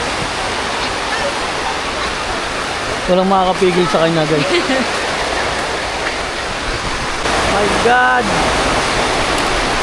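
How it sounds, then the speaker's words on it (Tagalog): Heavy rain pours down steadily as a broadband roar, loud and constant throughout, with voices talking over it in the middle and near the end. "Ang lakas ng ulan."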